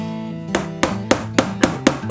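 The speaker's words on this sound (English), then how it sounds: "Take a hammer" Six sharp hammer strikes on wood of a Kallax shelf at a steady pace, each a crisp knock with a brief ring, close and fairly loud.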